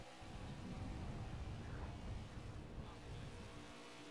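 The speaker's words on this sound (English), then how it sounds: "I'll let the amazing looking car go by." A stock car in NASCAR 21 roars past with a loud, broad engine drone that swells and then eases over a few seconds, with the race's engine noise continuing underneath.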